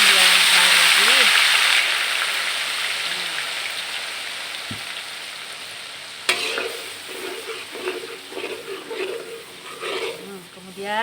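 Blended garlic, ginger and onions frying in oil in a pan for sambal tempe paru, a steady broad sizzle that fades somewhat, then sharper stirring and crackling bursts in the second half.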